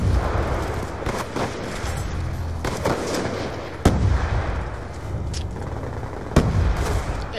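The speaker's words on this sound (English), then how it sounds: "Hey, got a fragment grenade." Frag grenade explosions and gunfire in Black Ops 2 Hardpoint multiplayer, a dense, steady din of game combat with sharp blasts standing out at several moments, no voices.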